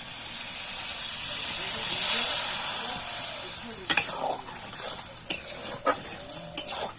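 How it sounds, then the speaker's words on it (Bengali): Tomatoes go into a pan of sizzling Bengali vegetable chorchori, a steady hiss of frying with sharp clinks and scrapes of a spoon stirring against the pan, close and moderately loud, with a voice speaking over it. "এবার টমেটো দিয়ে দেব"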